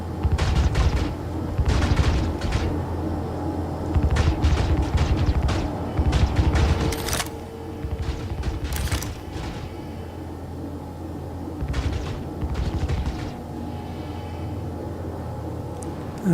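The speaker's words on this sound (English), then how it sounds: "Somebody's shooting. Killing everybody." Gunfire in the video game Star Citizen comes in repeated rapid bursts, some with sharp reports, separated by quieter stretches and a faint steady mechanical hum.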